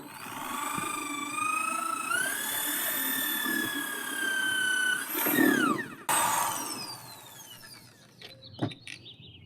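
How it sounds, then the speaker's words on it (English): A power drill bores holes into a plastic tray, its high motor whine rising and falling in pitch as it runs under load, then stopping abruptly, followed by a few faint clicks and handling noises. "I needed to drill so I'm not drilling into my table"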